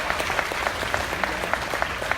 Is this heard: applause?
yes